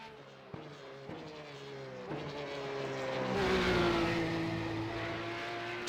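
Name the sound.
Porsche 911 GT3 Cup engine heard from outside, iRacing game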